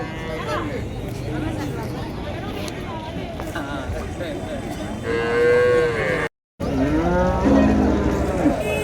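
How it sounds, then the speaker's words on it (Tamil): Jersey and crossbred cattle mooing at a village cattle market, with a few long, drawn-out moos rising over the crowd chatter and a continuous bustle of voices. "ஜெர்சி மாடுங்க இப்போ தான் இறக்குனாங்க அது பாரு அந்த பக்கம் இருக்கிறதெல்லாம் வந்து கலப்பின மாடுங்க"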